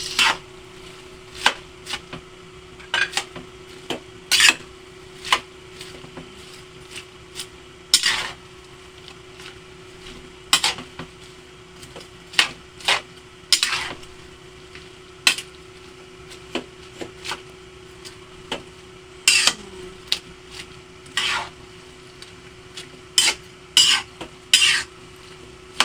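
Cabbage being stirred into pancit bihon in a pan, with repeated scraping and clattering strokes of the spatula against the metal at an irregular rhythm over a steady low background hum, close up, with no voices.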